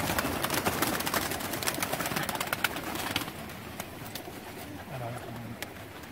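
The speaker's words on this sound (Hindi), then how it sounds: "ब्रीडर कबूतर हैं सारे" Breeder pigeons coo softly from their loft, low repeated calls near the end over a steady background hiss, with no talking.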